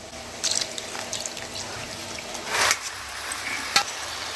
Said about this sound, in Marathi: गार पाणी घातल्यानंतर त्या शेवया मोकळ्या होतात म्हणून आपण गार पाणी यावर घालून द्यायचंय